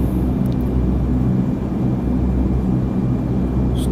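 C-130 aircraft engines in the flight simulator MSFS 2020, flying over Alaska: a loud, steady, unbroken turboprop drone with a deep rumble that stays constant throughout with no talk.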